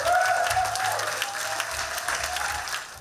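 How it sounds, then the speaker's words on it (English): Audience applause after a theatre production about Oscar Wilde at an Irish cultural venue, a steady dense clapping from a crowd that holds at a constant level throughout, with a faint tonal hum underneath. "I ask one more round of applause for you"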